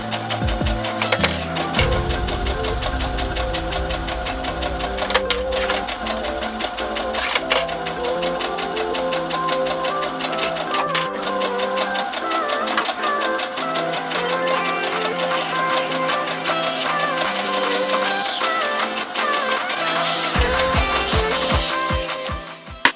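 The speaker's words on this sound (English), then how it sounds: "let's go ahead and make our straight stitch down the seam here" A sewing machine running a straight stitch down a seam, its needle clattering in a fast, steady mechanical rhythm close up for a long stretch, with a brief pause near the end before it starts again.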